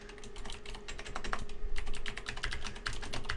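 Rapid typing on a computer keyboard while entering a document name, a steady close stream of light key clicks with brief pauses and no talk.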